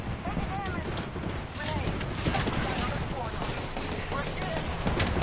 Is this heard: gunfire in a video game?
yes